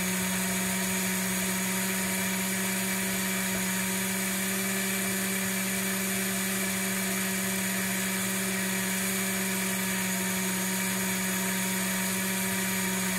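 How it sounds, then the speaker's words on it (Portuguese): Blender running steadily while crushing bread soaked in 120 ml of whole milk for a condensed-milk pudding, a continuous loud motor whir with a strong hum, heard alone without talk. "E agora vou bater até que triture bem esse pão."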